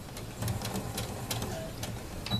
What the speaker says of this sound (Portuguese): Dá o retrocesso para reforçar bem a costura.